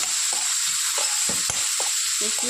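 Pav bhaji ingredients with tomato and coriander powder sautéing in a pan, a steady close sizzle with a few soft spoon scrapes and taps scattered through, no voices.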